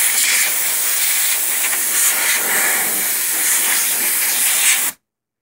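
Compressed air sprays over an MSI Z170A Gaming Pro Carbon motherboard to blow off dust, a loud continuous hiss held for about five seconds before it cuts off abruptly.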